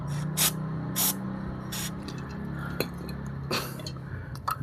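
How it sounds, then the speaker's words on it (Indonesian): Short bursts from a spray can hit a broken motorcycle plastic part being repaired with glue and resin, several quick hissing sprays close by with small clinks between them. "tempel semprotkan lagi"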